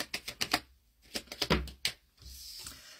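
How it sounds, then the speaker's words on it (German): Playing cards being shuffled near at hand: bursts of crisp rapid clicks and riffles in quick clusters with brief pauses between, loud and alone with no speech. "Wie mischt man richtig Karten?"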